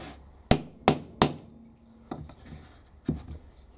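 Three sharp hammer taps in quick succession knock a tight-fitting part onto a Makita XTR01 cordless router, followed by a few softer knocks and handling clatter, close and with no talking.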